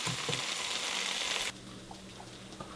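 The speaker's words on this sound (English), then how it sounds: "You can see the onions mixing well with the curry paste." Onions frying with curry paste in a pan, a dense sizzle that drops off abruptly midway, followed by quieter scraping stirs and small clicks.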